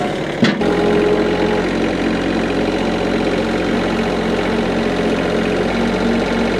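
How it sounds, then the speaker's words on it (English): Tractor engine idling steadily while holding up a wooden swing frame beam, a close, loud, continuous low rumble with a brief knock at the start. "Gotta love a tractor."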